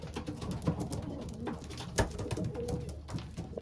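Soft, low racing pigeon cooing repeats in a steady murmur, close by, with faint rustling and background noise around it.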